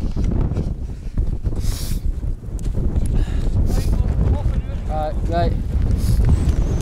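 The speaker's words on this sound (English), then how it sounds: "when I got blasted with the wind, we're at the exposed point here" Strong wind gusts buffet the microphone on an exposed point of a snowy Scottish mountain during a winter climb, roaring loudly and continuously with someone talking through it.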